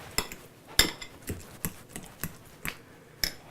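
Avocado being mashed in a bowl for guacamole, a series of sharp utensil knocks and scrapes against the bowl at an uneven rhythm, close and fairly quiet.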